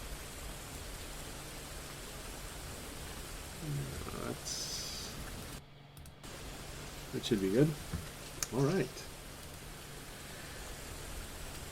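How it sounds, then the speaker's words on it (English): Soft, steady hiss of gentle drizzle fills the scene, with someone speaking briefly over it partway through. "Let's go with a gentle drizzle, maybe."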